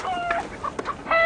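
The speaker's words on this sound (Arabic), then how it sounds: "معك دجاج؟ معي دجاج." Chickens clucking and squawking in short, scattered calls at close range, a few overlapping bursts with no voices present.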